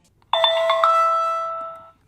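A Wyze Cam smart camera plays its setup chime: a bright, loud multi-tone electronic ding that sounds once and rings out for about a second and a half before stopping, alone with no voice.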